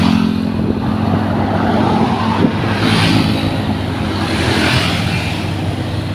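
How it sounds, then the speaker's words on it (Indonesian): Cars and motorbikes pass steadily along a road in Bukit Indah City, Purwakarta, with continuous loud engine drone and tyre rumble that rises and falls as vehicles go by. "Banyak para pengemudi baik roda 4 maupun roda 2 yang melintasi di kawasan ini."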